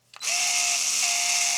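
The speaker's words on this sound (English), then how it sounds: "it's a tad bit quicker at removing screws than this one" A power screwdriver removing screws from an Arrma Mojave 4S RC car: a brief click, then a loud, close, steady high motor whine that holds for over a second.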